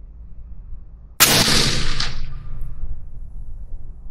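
A single Winchester .308 rifle shot from a Christensen Arms MPP fired outdoors while sighting in for deer season: one sharp, loud crack followed by a long rolling echo that slowly fades.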